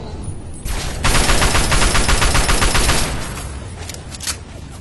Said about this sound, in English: I'm going to shoot it.